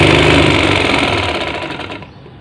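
Sewing machine stitching piping into a cotton bed sheet, a loud, close, steady mechanical whir that holds for about two seconds, then slows and fades out, with no voices.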